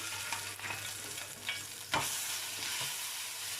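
Garlic frying in about two tablespoons of oil in a pan, a steady bright sizzle close by with a few soft stirring scrapes and a small clack partway through.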